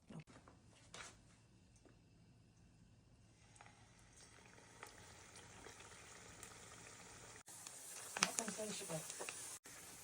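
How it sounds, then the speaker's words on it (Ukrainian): A low, steady sizzle of cabbage pies frying gently in oil on very low heat, a soft continuous crackle that grows brighter toward the end, with people talking over it. "Ми смажимо на дуже маленькому вогні."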